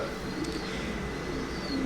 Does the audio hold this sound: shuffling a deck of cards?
no